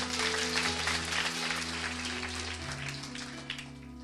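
A church congregation claps hands in praise, a dense, steady wash of applause lasting throughout with a low sustained tone underneath.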